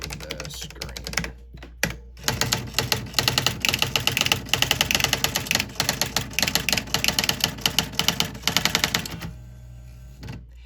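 An electronic typewriter prints out a line of typed text in a rapid, loud run of close mechanical strikes, with a short pause early on, before the clatter stops and leaves quiet room tone.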